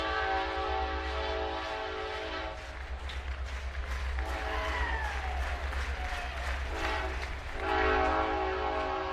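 A train rolls along tracks beside a college baseball ballpark, its horn blaring in long sustained blasts over the rumble of the cars, with faint crowd noise in the background.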